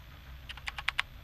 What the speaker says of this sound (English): Use your keyboard to talk to Kaizen